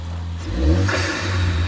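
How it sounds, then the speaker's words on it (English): A Ford ST turbo engine revs up nearby, its low drone swelling and easing over a steady idle, with a turbo whoosh rising in the middle. "Hey, you hear that turbo?"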